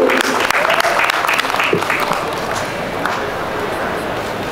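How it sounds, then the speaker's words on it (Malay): An evening gathering applauds a woman, loud close clapping starting strong with a few voices mixed in, then settling into a steadier, slightly softer patter. "boleh berikan tepuk tangan kepada Ibu"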